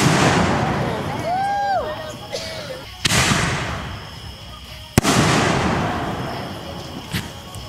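Fireworks exploding at a backyard fire show, with sharp booming bursts around three, five and seven seconds, each followed by a crackling, hissing tail, loud and fairly close, while people talk and a rising whistle sounds early on.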